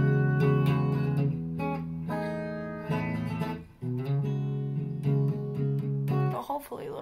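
Electric guitar playing the opening riff of a song, a run of sustained, clean-toned chords and picked notes in steady phrases, close and fairly loud, with no voices over it.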